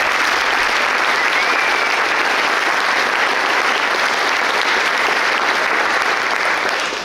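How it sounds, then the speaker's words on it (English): Loud, sustained applause from a theater audience at the Medallion Theater during a youth chorus concert, steady dense clapping throughout with no voices on top. "Can we get a round of applause for them?"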